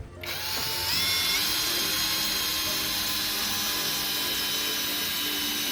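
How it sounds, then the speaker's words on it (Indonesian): Cordless drill at speed 1 driving a 7 cm screw, spinning up quickly into a loud, steady whine that holds at a constant pitch, close and alone. "Selanjutnya akan saya pakai sekrup ukuran panjang 7 cm ya sob. Untuk speednya masih sama di speed 1 aja."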